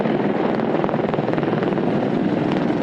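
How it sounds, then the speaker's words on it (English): Six AH-64 Apache helicopters fly and hover in close formation for an Army–Navy game flyover; a steady, loud, throbbing rotor roar fills the whole stretch with no talk. "6 AH-64 Apache helicopters fly and hover just 40 feet away from each other"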